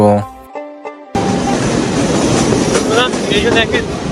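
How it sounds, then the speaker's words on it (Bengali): A train on the Faridpur–Rajbari line rumbles past close by through open fields, a loud steady roar of wheels on rails after a brief quiet start with faint music. "মাঝখান দিয়ে চলছে ট্রেন"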